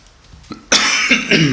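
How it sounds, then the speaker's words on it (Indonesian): One loud, harsh cough bursts out close up, followed by a rough second rasp, with no talking around it. "Sorry, batuk."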